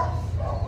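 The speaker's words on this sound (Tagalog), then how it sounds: "Pasensya na kayo sa tunog ng aso." A dog barks briefly nearby, a short burst of woofing over low background rumble.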